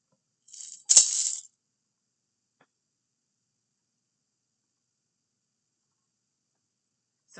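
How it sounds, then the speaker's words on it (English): A single brief rattling shake of a maraca, close and crisp, followed by silence. "We heard one sound, and it was the maraca"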